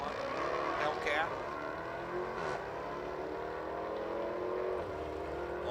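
A 2021 Hellcat and a Chrysler 300 launch side by side down a drag strip, engines revving hard and tires roaring past, heard from a distance beneath a track announcer's voice.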